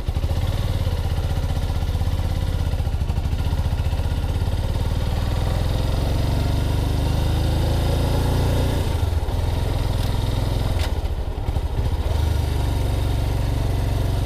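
A cold Suzuki GS 500 motorcycle engine runs loud and close as it warms up, with a steady idle rumble and a mild clattery texture, and no voices.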